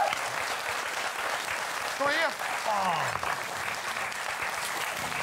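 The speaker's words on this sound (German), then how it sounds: "Ein Applaus" Studio audience applause on a German TV cooking show, a dense broadband clatter filling the whole stretch while someone speaks briefly over it.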